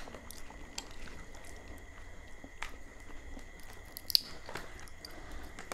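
Crunchy macadamia nuts chewed close to the mic, with quiet irregular crunches and bites at a soft level and no talking.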